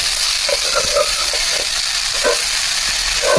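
Jackfruit pieces stirred in a frying pan with coconut, a loud continuous sizzle with repeated scraping strokes of the spoon, close and dense, no talking.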